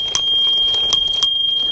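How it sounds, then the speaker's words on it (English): The small handlebar bell on a KBO Hurricane e-bike rings with bright metallic dings, a few quick strikes whose tone rings on steadily, close and clear, with no talking. "and the little bell."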